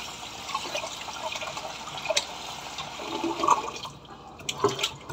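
Minced garlic rinsed under a running kitchen tap for marinated beef, a steady rush of water with splashy bursts and drips, close and moderately loud, no talking.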